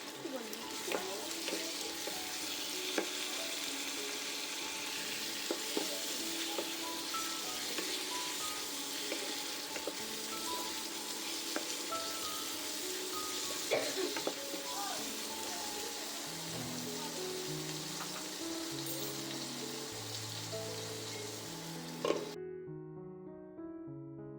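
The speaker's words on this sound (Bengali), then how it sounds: "এইভাবে ভালো করে নুন দিয়ে নেড়ে তারপর চাপা দিয়ে দিয়ে আমি কিন্তু একদম টমেটোকে একদম নরম করে নেব" Whole tomatoes fry with salt in a pan for a duck curry, giving a steady close sizzle broken by scraping stir strokes; the frying fades near the end as a short melodic tune takes over.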